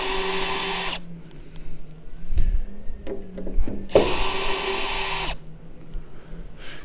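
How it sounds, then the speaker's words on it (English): Power drill backing old screws out of a car roof panel during a T-bar conversion, two loud whirring bursts near the start and middle, with clinks and handling knocks between them. "So these screws come off fairly easily, although I'm sure they've been in for a number of years."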